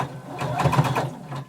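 A home sewing machine stitches slowly over a thick belt loop on a garment, a steady close-up mechanical whirring with rapid needle pulses and slight straining, no voices heard.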